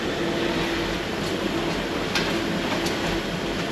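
A train rumbles steadily from inside, with constant broadband roar, a faint humming tone and occasional light clicks from the rails.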